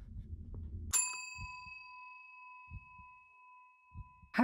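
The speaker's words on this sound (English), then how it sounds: "She rang her own bell." A bell in the video game Suite 776 strikes once with a bright, clear ding that rings out and slowly fades, followed by a few soft, dull thumps and another sharp hit at the very end.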